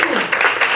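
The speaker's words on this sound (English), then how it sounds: "let's clap for that" Applause from an audience at a business equity division launch event for Port Houston, a dense, steady patter of many hands clapping, fairly loud and close, with faint voices mixed in.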